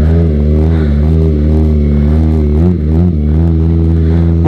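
Loud, steady high-pitched drone of a modified Kawasaki Ninja ZX-25R sport motorcycle engine revving close by, with brief dips in pitch as it shifts with a quick shifter.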